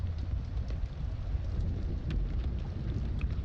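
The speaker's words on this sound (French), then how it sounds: "Ah non, c'est de la grêle là." Steady dense patter of hail in the video game Subnautica: Below Zero, with a low rumbling undertone, continuous and even throughout.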